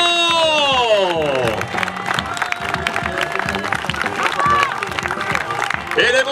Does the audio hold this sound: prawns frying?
no